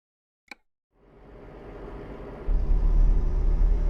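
A brief plop sounds first, then a truck engine in Euro Truck Simulator 2 rises into a low rumble that swells louder and stays steady and close.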